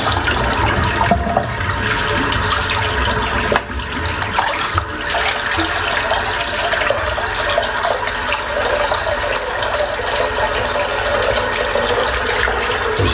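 Murky shaving water drains steadily out of a sink in a long, loud, continuous gurgling rush that stays close and unbroken, with no talking.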